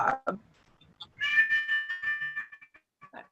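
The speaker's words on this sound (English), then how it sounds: "And your cat's contributing to the conversation too." An indoor house cat lets out one long, drawn-out, wavering meow in the middle, with a few short chirps and faint sounds before and after it in an otherwise quiet room.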